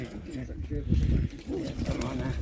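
Pigeons coo in low, soft murmurs close by at a pigeon market, mixed with people talking over them.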